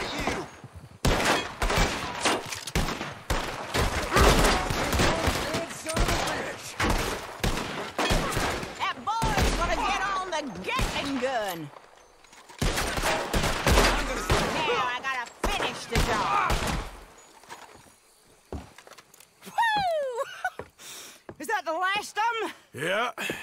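Gatling gun from Red Dead Redemption 2 hammering in long rapid bursts of loud, dense gunfire mixed with scattered shots, breaking off briefly midway and trailing into quieter sporadic fire, with voices talking over the later part.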